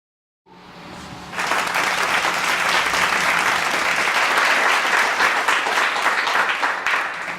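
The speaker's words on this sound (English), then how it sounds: "Let's have a round of applause for your co-hosts Lauren Hagan and Jon-Mikel Bailey." A studio audience breaks into applause that swells within a second into a dense, sustained round of clapping, holding steady for several seconds before starting to fade.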